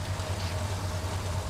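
A steady low truck engine rumble idles continuously in the video game Hell Let Loose, a constant droning hum with no voices over it.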